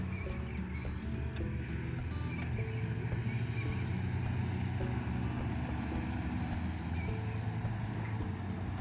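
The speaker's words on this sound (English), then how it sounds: "There's another boat coming through." A boat passes by on the water near a garden, a continuous low engine rumble holding steady throughout, with faint bird chirps above it.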